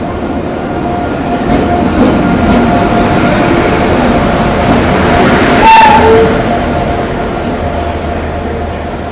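A Bhopal to Nizamuddin superfast train departing, rumbling and clattering steadily close by, a loud continuous roar of wheels with a brief sharp squeal or horn-like tone midway.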